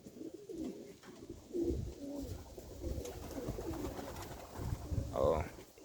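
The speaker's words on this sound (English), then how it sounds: "oh, it's the pigeon." A Capuchine pigeon coos softly in a low, repeated throaty rumble with a louder coo near the end, mixed with quiet talk.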